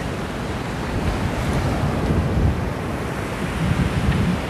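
Ocean surf washing up a beach in La Union, a continuous broadband rush of breaking water with swelling surges, mixed with wind buffeting the microphone and no voices.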